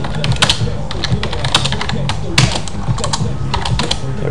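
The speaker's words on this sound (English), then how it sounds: "And you can type in a message." Rapid clattering keystrokes on a computer keyboard, typing a message into a hockey management game's trade offer, steady and close with uneven bursts, with a low background hum beneath.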